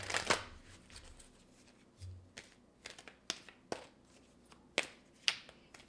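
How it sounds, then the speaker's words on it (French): Oracle cards being shuffled and drawn give soft riffling and sharp flicking snaps, close and quiet, in a string of brief irregular bursts. "Je vais prendre une carte oracle du Sphinx de Delft."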